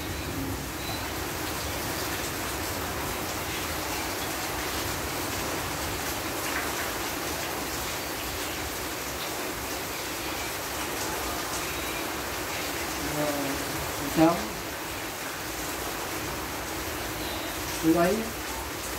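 Heavy rain with a windstorm over farm fields in Tân Phước: a steady, dense hiss of rainfall throughout, with a person speaking over it.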